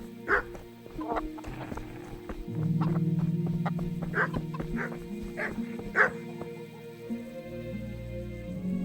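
A dog in the medieval video game Kingdom Come: Deliverance gives several short yips and barks spread across the clip over a low steady game soundtrack, with a voice briefly audible.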